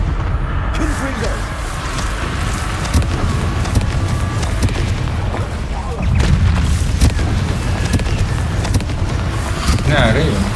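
Booming blasts from the Confringo spell in the video game Hogwarts Legacy recur over a dense, continuous game soundscape, with a louder burst of explosions from about six seconds on.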